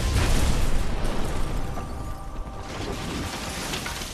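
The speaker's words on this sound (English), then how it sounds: "if I set 2 charges, they both detonate at once" Explosive gel charges detonating in a Batman Arkham video game, a loud booming burst at the start that decays into a rumbling, crackling tail with mechanical clatter.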